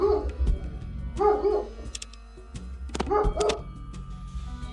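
A puppy barks and yips in short bursts, several sharp barks close by with brief whimpering tones between them, clear and fairly loud over a low room hum.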